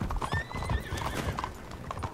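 In a video game, a horse's hooves clip-clop steadily close by while it lets out a whinny, with faint background game ambience and no talk.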